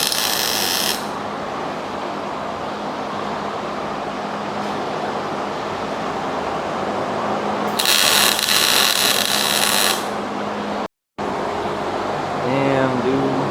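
Welding on a Mazda Miata differential, with the arc crackling as a steady broadband hiss that runs nearly continuously, steps up louder for a couple of seconds, then breaks off briefly before resuming, while a voice comes in near the end.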